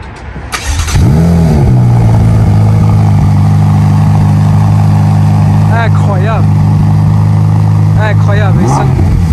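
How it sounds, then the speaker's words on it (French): A Ferrari F8 Tributo with a Novitec exhaust fires up from cold: a loud starter catch and sharp rev flare settle into a deep, steady, high idle close by, with someone speaking briefly over it later on. "Ok les amis, cold start de la F8"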